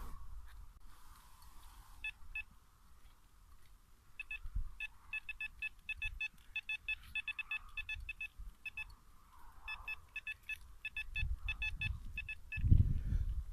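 Short electronic beeps repeat in quick irregular bursts, a metal detector's high signal tones over a buried coin, with faint rustling and low handling noise.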